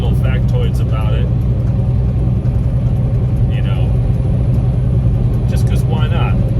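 A truck drives a highway in South Dakota, giving a loud, steady low rumble of engine and road noise throughout. Someone talks over it from inside the cab.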